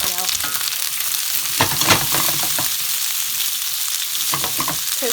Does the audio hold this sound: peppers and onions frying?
yes